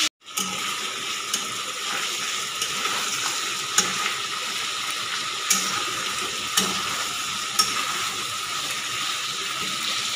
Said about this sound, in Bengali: আগে আমি চিকেনটাকে ভালো করে ভেজে নেব।